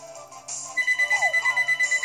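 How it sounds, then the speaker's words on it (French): A telephone rings with a repeating electronic ringtone, pulsing in steady regular bursts after a brief lead-in, fairly close and loud with no talking over it. "il y avait un téléphone"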